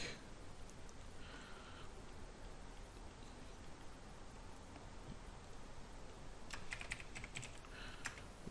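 Quiet computer keyboard typing with scattered light key clicks and a few faster bursts near the end, soft and close against a faint background hiss.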